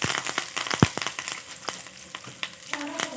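Green chilies and curry leaves fry in ghee with a busy crackle: sharp pops and spits burst over an uneven sizzle, with one louder snap near the start.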